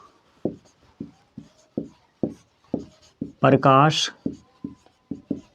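Chalk or marker strokes scratch across a classroom board in short repeated bursts, close and fairly loud, with a brief spoken phrase in Hindi in the middle of the writing.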